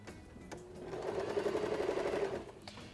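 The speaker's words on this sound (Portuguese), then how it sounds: "A gente vai para a máquina costurar isso aqui de novo." A sewing machine stitching fabric for a festa junina skirt runs in a steady, close, fairly quiet burst of rapid rhythmic whirring for about a second and a half, then stops.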